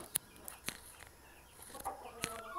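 Chickens in a coop give scattered short clucks and sharp calls, fairly close but quiet, over a soft background hiss, with no talk.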